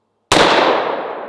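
A hand cannon fires a single 600 grain round: one sudden, very loud close blast that decays over about a second, with no talk.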